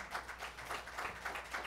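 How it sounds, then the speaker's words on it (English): A church congregation clapping hands in praise, a steady rhythmic patter of many claps at a moderate distance, fairly quiet, with no talking. "give the Lord a huge hand clap"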